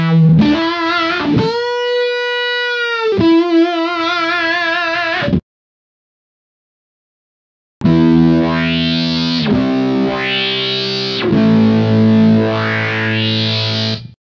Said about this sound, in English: Here is a great lead sound using the Deluxe Big Muff into a Holy Grail reverb pedal